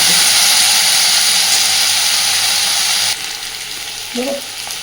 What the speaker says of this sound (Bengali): আলুটাকে খুব ভালোভাবে একটু ভেজে নেবে